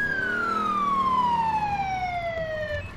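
A police car siren running code 3 in GTA IV wails alone and loud, one long falling sweep with strong harmonics over a low engine rumble, close and steady before easing off at the end.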